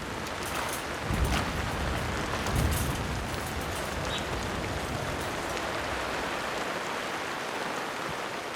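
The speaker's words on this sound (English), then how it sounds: "This is the first time that they've experienced rain." Steady rain falls outdoors, a dense hiss of drops hitting surfaces with a few louder splashes early on, continuous and fairly close throughout.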